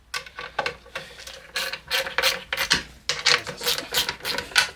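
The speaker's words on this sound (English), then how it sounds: "So tighten this down, then I simply just get my ratchet." Ratchet tightening bolts on a wooden shoulder jig for dovetails and tenons, a series of quick, close rasping clicks in short bursts with brief pauses between strokes.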